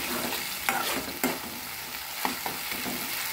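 Chole masala being stirred in a pan as it fries, a steady soft sizzle broken by a few sharp spoon scrapes and clacks, close and alone.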